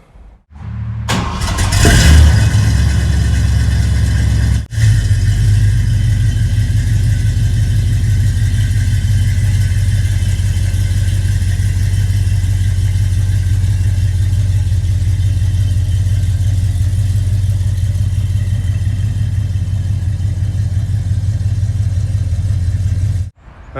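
A 1976 Ford F150 truck, lowered with a Crown Vic swap, cranks and catches, then its engine runs steadily and loudly for the rest of the time with a deep, constant rumble as it pulls outside.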